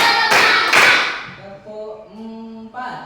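A group claps hands twice, quickly and sharply, during a classroom lesson led by a teacher, and a voice speaks right after.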